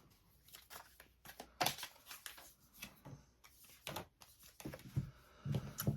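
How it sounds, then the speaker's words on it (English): A deck of tarot cards being shuffled, quiet close-up riffling and slapping in irregular bursts with soft card flicks throughout. "just giving these cards a good shuffle"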